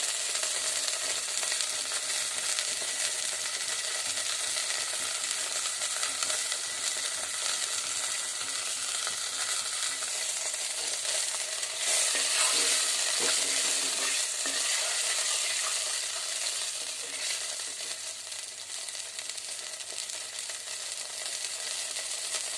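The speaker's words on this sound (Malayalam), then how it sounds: "അപ്പം നമ്മുടെ പുളിവെള്ളം നന്നായിട്ട് തിളച്ച് വന്നിട്ടുണ്ട്" Tamarind water bubbling at a steady boil in a clay pot for fish curry, a continuous soft hiss and faint crackle that stays even and fairly quiet throughout, no voices.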